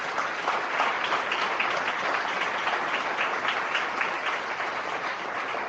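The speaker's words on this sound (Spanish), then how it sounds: "Dele un aplauso al Señor" A church congregation applauds during a Spanish-language sermon, giving sustained, even clapping that fills the space at a constant loud level, with no voices heard over it.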